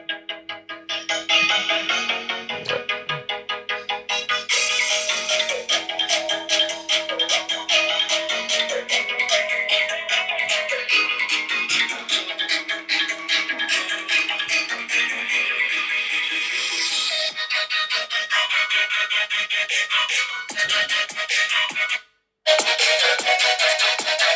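An iPhone 12 mini's built-in speaker plays music at full volume, a steady, dense stream of bright melodic sound that continues throughout, with a brief dropout near the end.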